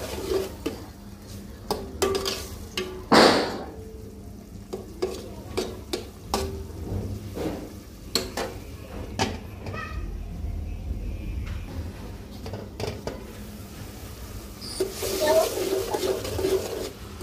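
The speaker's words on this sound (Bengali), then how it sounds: "ঢাকনাটা উঠিয়ে আবার একটু নেড়ে চেড়ে দিব।" Curry in a pot stirred after the lid is lifted, scraping spoon strokes and metallic clanks over a low sizzle, with a sharp lid clatter early on and a speaking voice at times.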